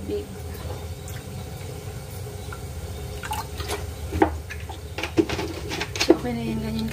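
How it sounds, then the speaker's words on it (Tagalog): Water is poured into a pot of cooking okra and potatoes, with soft drips and liquid splashes growing more distinct toward the end as someone talks over the sound. "lagyan pa natin ulit siya ng tubig"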